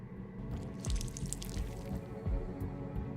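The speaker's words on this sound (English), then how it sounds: "I'll go and add some water." Water being added in Whispers of a Machine: soft trickling and a few drips, fairly faint, over a low, steady background hum.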